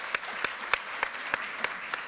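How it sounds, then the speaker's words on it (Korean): Hearty applause from an assembly of party lawmakers after a candidate's speech in a floor-leader election, with sharp claps rising roughly every third of a second over steady clapping. "박수는 누구나 다 할 수 있게 뜨겁게 쳐주시기 바랍니다"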